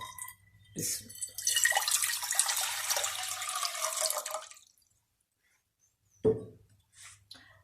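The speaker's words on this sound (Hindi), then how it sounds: "हाफ लीटर में पानी डाल रही हूँ सॉस पैन में।" Half a litre of water poured into a saucepan for ginger tea, a steady splashing pour lasting about three seconds, then quiet, followed by a brief clink or tap near the end.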